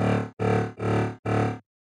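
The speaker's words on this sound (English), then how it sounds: "We're going to add distortion" Heavy metallic dubstep synth with soft-clip distortion, four loud sustained buzzing notes in a steady rhythm, each cut by a short gap, rich and gritty, with no voices.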